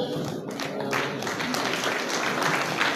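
An audience claps in a loose, sustained burst at a graduation ceremony for at-risk youth, the applause steady and moderately close throughout.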